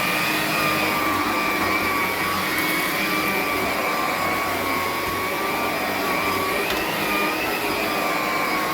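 An Electrolux Discovery model 1572E upright vacuum cleaner runs steadily on carpet, a loud continuous motor whine with a high-pitched tonal hum, close by and alone.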